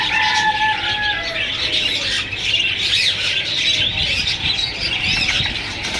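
Green ringneck parakeet breeder pairs caged at a Sunday bird market in Bahawalpur, a continuous chorus of harsh, overlapping squawks and shrill calls, close and loud with no talk.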